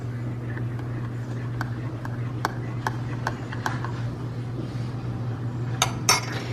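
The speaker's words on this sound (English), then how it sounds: "I usually like to give mine just a little stir" A spoon ticks lightly and rhythmically against the side of a cup while stirring a matcha green tea latte, evenly spaced soft clinks under a steady low hum, ending in a couple of brighter knocks.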